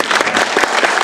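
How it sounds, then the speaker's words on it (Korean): Brief burst of loud, close audience clapping after a film screening and discussion, dense and uneven with individual hand claps popping through, no voices. "네, 박수 한번."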